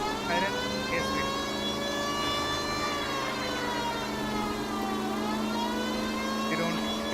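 A continuous wailing police car siren in the video game L.A. Noire rises and falls steadily over a constant engine hum, sounding synthetic and evenly loud throughout.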